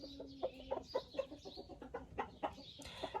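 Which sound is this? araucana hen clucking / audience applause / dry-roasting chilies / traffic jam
araucana hen clucking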